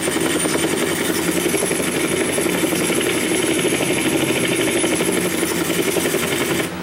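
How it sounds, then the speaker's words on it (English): A helicopter lands in Grand Theft Auto San Andreas, its rotor chopping in a steady rapid pulse over a continuous engine whine, loud and even for nearly seven seconds before dropping off at the end. "Land helicopter."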